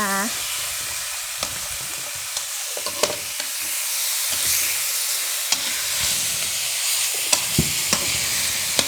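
Spaghetti stir-fried in a hot pan as oyster sauce goes in, a steady loud sizzle and hiss with scattered clinks and scrapes of the utensil against the pan throughout.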